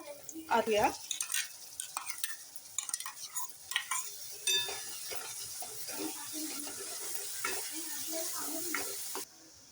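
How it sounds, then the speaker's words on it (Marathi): Onion is sautéed in a pan with chili and ginger-garlic paste, making a soft sizzle under repeated scraping and clattering stirs of a spoon against the pan, with faint voices in the background. "हे सर्व आपण परतवून घेऊया कांदा आपला चांगला परतवून झालेला आहे"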